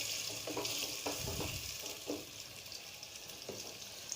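Chicken with tomato paste fries loudly in a karahi, a constant close sizzle broken by scraping stirs of a spoon against the pan.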